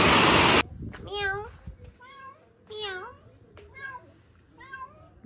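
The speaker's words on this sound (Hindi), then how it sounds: "ये बिल्ली, इनके बच्चे दो जो गायब हो गए, अब ये रो रही है।" A cat meows several times in a row, clear and fairly close, with drawn-out wavering cries separated by short pauses after a brief burst of noise.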